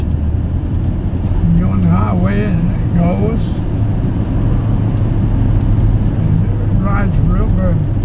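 An older car with power steering, power brakes and cruise control drives along a highway, giving a steady engine and road drone with wind noise throughout while someone talks over it.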